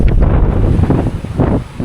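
Strong wind of about 40 knots at sea roars steadily in a heavy, low buffeting rush, with gusts swelling and easing throughout.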